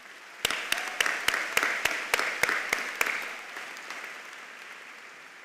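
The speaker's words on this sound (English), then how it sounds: "Join me in a round of applause." Applause at a high school commencement ceremony for the class of 2025: a burst of sharp claps opens the crowd's clapping, which swells, holds steadily and then fades over a few seconds, with no voices over it.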